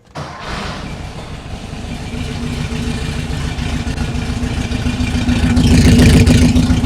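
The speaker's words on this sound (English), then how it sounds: "let's see if she'll fire" A 1968 Porsche 912 engine cranks and fires, then settles into a loud, steady idle close by that builds slightly in intensity, with no voices over it.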